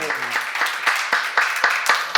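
A church congregation applauds during a sermon, steady rhythmic clapping of many hands at moderate distance, fairly even and sustained over a couple of seconds.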